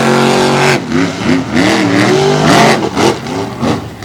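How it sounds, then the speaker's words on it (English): Race cars in a championship race at Boyd Speedway, a short track on the Tennessee–Georgia state line, roaring loudly up close as the engines rev and rise and fall through the first turn. "Here we go, the championship race at Boyd Speedway into the first turn."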